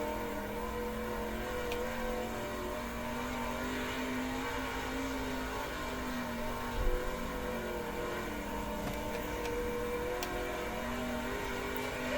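Sprint car engine droning steadily on a timed practice lap in the World of Outlaws racing video game, a faint, even hum with no talk.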